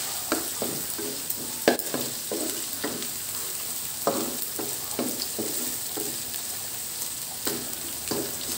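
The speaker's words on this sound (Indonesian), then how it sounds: "goreng ikan terinya sampai rapuh ya sobat Yuda." Anchovies frying in hot oil until crisp, a steady sizzle broken by repeated scraping stir strokes every second or so, close and fairly loud with no talking.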